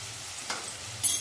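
Mutton fries in oil with chili powder while being stirred. A soft, low sizzle runs throughout, and a brief scrape of the spoon comes near the end.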